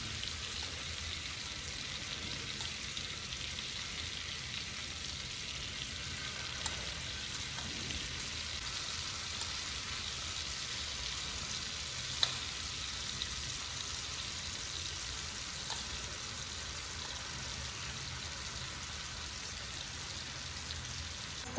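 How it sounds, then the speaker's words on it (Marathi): Marinated paneer frying in butter on a tawa, a steady soft sizzle hissing evenly throughout with no voices over it, fairly quiet and close. "इकडे मी पनीर फ्राय करून घेण्यासाठी तव्यामध्ये बटर घातलेलं आहे"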